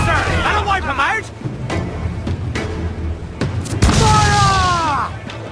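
Ship cannons fire in a sea battle in Assassin's Creed Black Flag, several loud booms in quick succession amid shouting crew voices, engine-like rumble and whistling projectiles.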